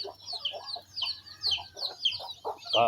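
Native Visayan hens with newly hatched chicks, heard close by: the hens give continuous soft clucking while the chicks add high, rapid peeping over it.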